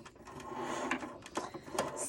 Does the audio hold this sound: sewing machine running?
yes